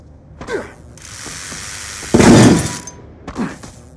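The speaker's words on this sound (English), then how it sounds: "Death machine spinning up." A Death Machine minigun in a Call of Duty search-and-destroy match winds up with a mechanical whir that swells, then bursts into a loud rattling roar before dropping away, with brief interface sounds around it.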